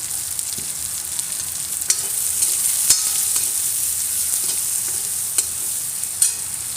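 Small onions fry in a pan with a pinch of asafoetida, producing a continuous bright sizzle. Occasional sharp clinks and scrapes from a stirring utensil sound close by.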